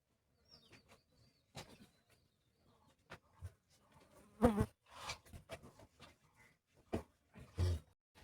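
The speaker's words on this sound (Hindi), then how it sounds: "मक्खी भी बहुत ज़्यादा लगी हुई है इनको" Flies buzz in faint intermittent bursts around cattle at feed, with occasional louder close passes and soft rustles between.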